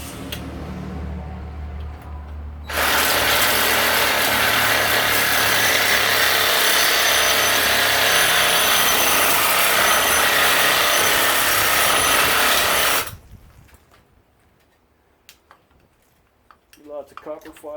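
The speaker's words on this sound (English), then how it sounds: "Sawzall." A Sawzall reciprocating saw cuts through a chunk of copper in one loud, close, continuous stretch of about ten seconds of rasping metal, with quieter handling before and after.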